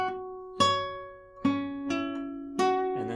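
Plucked banjo notes from a song part, played with hammer-ons: four clear, ringing attacks spaced about a second apart, each decaying before the next, played alone and up close.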